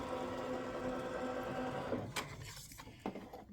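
An embroidery machine hums steadily with a rapid mechanical drone, then slows into a few separate clicks and thumps near the end.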